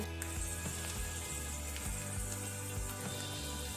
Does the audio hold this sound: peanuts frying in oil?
yes